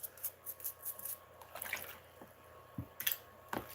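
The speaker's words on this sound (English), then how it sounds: "Just scrubbing to make sure that we don't have any little dirt stuck in the little corners of the triangles on these" Nintendo 64 controller buttons scrubbed in soapy dish-soap water, with soft wet squishing and scrubbing strokes and scattered drips and splashes, close and fairly quiet.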